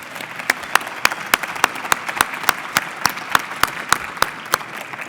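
Scattered clapping from a small crowd, with distinct individual claps in a fairly steady rhythm.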